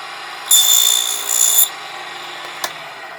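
A miniature table saw cuts a shallow dado in a small piece of wood, giving one short, high whining cut of about a second, followed by a faint tap.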